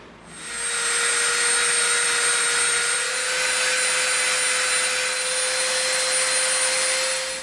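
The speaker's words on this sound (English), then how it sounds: "now we're going to slightly round off the edges" A power tool grinds down and rounds the edges of glued EVA foam pieces. It sets up a loud, steady, high-pitched whine that holds for several seconds, with a constant tone riding above a broad hiss and a soft start and finish.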